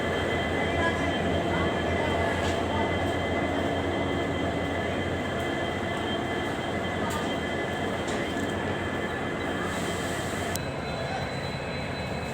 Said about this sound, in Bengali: এই ট্রেনটা যাবে নিউ বনগাইগাঁও অবধি যাবে।